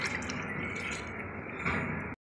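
Water dripping and trickling in a bucket of water holding crushed oregano and lemongrass leaves, a steady close splashing patter that cuts off abruptly near the end.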